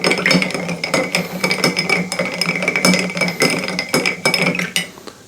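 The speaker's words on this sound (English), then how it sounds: "And then I want to give it a stir." Ice and a spoon clink rapidly against a glass as an apple old fashioned cocktail is stirred, a loud, close, continuous rattling with no talking.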